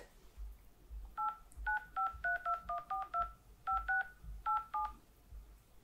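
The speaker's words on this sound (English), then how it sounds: "I'll make a phone call." Telephone keypad dialing tones, a quick run of about twenty short two-pitch beeps in bursts with brief pauses, clear and close over faint low background hum.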